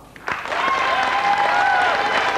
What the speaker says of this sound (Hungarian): mindenkit nagyon-nagyon nagy tapsot kérek szépen